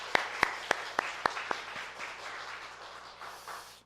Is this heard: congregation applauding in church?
yes